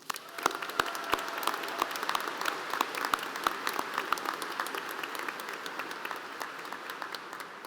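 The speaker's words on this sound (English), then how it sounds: "round of applause" At a high school graduation, the audience claps for the educators in a moderately loud, sustained round of applause, with individual sharp claps standing out close by against the broader crowd.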